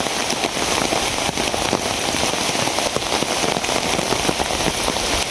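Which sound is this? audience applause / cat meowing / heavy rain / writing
heavy rain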